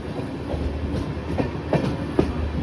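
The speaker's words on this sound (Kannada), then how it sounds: "ತಿರುವಲ್ಲೂರು ಇಂದ ಡಿಪಾರ್ಚರ್ ಆಗ್ತಾ ಇದೀವಿ ನೋಡಿ" A passenger train pulls out of Tiruvallur railway station on the Tirupati to Chennai line, heard from inside a carriage: a steady low rumble with a few soft wheel clicks and bumps at irregular intervals.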